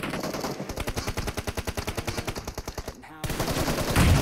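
Rapid automatic gunfire from PUBG Mobile rattles out in a long, evenly spaced burst of loud, close shots, then pauses briefly before a denser, louder volley begins.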